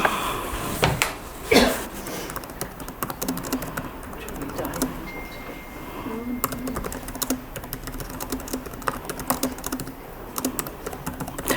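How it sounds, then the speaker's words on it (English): Typing on a computer keyboard at a desk to enter a prompt into Copilot, rapid uneven clicking of keys close up, with a brief voice partway through. "if you just type into it"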